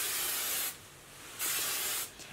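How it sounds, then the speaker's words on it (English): Tresemme hairspray is sprayed onto freshly curled hair in two short, close hissing bursts with a brief pause between them and a faint tail at the end. "you're gonna wanna hit it with some hairspray before you comb it out"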